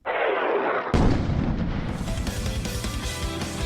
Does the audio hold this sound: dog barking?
no